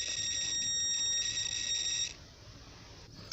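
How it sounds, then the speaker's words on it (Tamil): A digital multimeter giving its continuity beep while testing a speaker: a steady, shrill electronic tone held for about two seconds, then cutting off to quiet room hum. "இப்போ வடிவாக பாருங்கள், டிஜிட்டல் மீட்டரில் பீப் சவுண்டு வருது"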